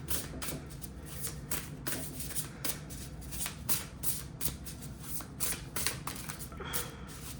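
Sacred Creator oracle cards are shuffled in a steady stream of soft, rapid riffling and flicking, close and quiet, with no talking.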